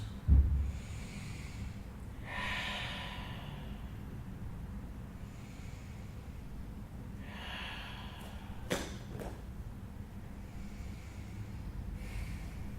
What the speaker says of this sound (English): breathe your breath directly into that area. 8 to 10 slow, deep breaths